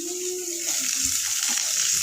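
Onions sizzle in hot tempering oil in a pan while dal is being prepared, a steady bright frying hiss that runs throughout with a few soft stirring scrapes.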